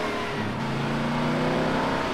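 A Mercedes-Benz 190E accelerates in the game GTA San Andreas, a steady droning engine note rising slightly in pitch and holding loud and continuous throughout.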